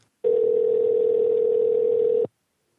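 A telephone dial tone rings out steadily during a call, one continuous unbroken hum lasting about two seconds, loud and close, then cutting off abruptly into silence, with no talk over it.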